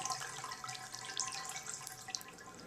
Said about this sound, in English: there's water flowing into the drain